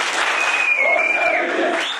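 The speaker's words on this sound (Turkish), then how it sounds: "Öğrenciler Başkan Genç'i konferans salonu girişinde tezahüratlarla karşıladı." High school students cheering and applauding as a visitor enters a conference hall, a continuous crowd roar with clapping and a sustained whistle-like tone, loud and steady throughout.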